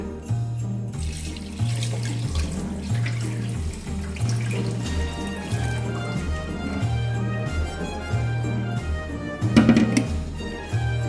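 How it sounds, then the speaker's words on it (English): Raw rice being washed in water before cooking in a small 1.5 L cooker: steady running and sloshing water with light clinks of grains and a repeating low hum underneath, ending in a brief louder splash. "This is raw rice and we wash it thoroughly twice"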